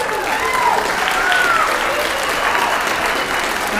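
Sustained, dense applause from an audience at a 2022 elementary school holiday concert, steady and fairly loud for several seconds with no break.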